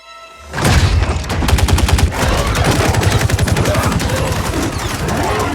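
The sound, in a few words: gunfire in Mortal Kombat 11 video game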